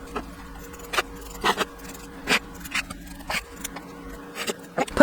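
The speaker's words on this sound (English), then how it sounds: "remove the hoop and trim the fabric away from the placement line using your curved" Curved scissors snip fabric away from an appliqué placement line, giving a series of short, crisp cuts at irregular intervals over a quiet hum from an embroidery machine.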